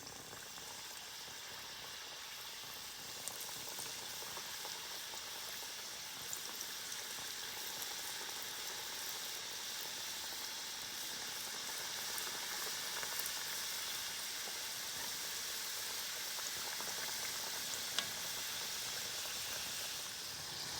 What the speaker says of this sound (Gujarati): હવે આપણે કચોરીને તળી નાખીએ.